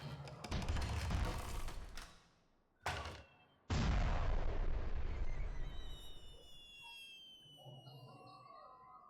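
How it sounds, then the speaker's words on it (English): Fireworks bursting in the Super Mario Odyssey video game: a loud explosive blast, a brief cut, then a second big boom that rolls on with crackling and fizzing sparkle tones as it slowly fades. "I love the firework display."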